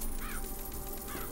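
Crows caw in BioShock Infinite, two harsh rising calls a second apart, fairly near, over a steady low ambient hum.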